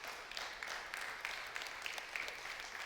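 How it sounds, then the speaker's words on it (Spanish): A church congregation applauds during a sermon, a faint, distant and continuous wash of clapping with a few slightly sharper hand claps poking through. "Denle un aplauso al Señor."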